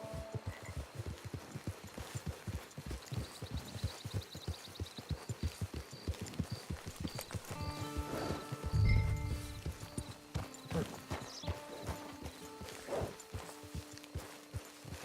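Horse hooves clip-clop steadily at a walking pace through a Red Dead Online camp, a clear repeated rhythm that slows and stops partway through, with a brief heavier thump and faint tonal game sounds nearby.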